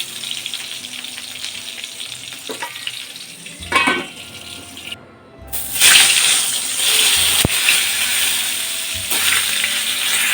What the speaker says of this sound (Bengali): এক পিঠ ভাজা হয়ে গেল আরও এক পিঠ ভেজে নিচ্ছি